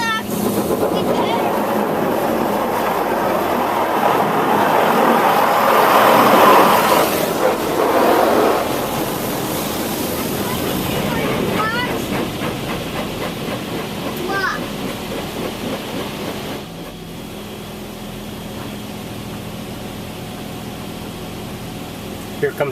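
A touch-free automatic car wash sprays clear coat wax over a car, heard from inside as a loud rushing hiss of water and blowers that swells then eases to a steadier hum, with people talking.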